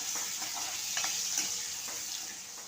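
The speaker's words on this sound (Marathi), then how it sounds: "आता कांदा लालसर होईपर्यंत परतून घ्या" Onion and curry leaves fry in a pan for a Konkani red chickpea curry. A steady bright sizzle is broken by a few soft stirring scrapes, close and moderately loud, with no voices.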